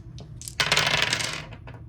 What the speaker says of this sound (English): I'm going to go ahead and roll some dice.